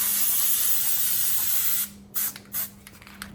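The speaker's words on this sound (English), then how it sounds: "3M makes something called Super 77 spray mount, and that's what I'm going to use to hold these guys in place" Aerosol can of 3M Super 77 spray mount adhesive sprayed onto Jeep Gladiator lift kit parts: one long steady hiss of nearly two seconds, then two short bursts, close and fairly loud, no talking.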